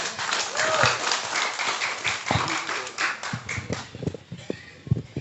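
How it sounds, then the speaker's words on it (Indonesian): Scattered, uneven claps from a small audience welcome the regent of Sumedang at a Darmaraja pendopo gathering, loose individual hand claps thinning out toward the end. "Tepuk tangan untuk Bapak Bupati kita."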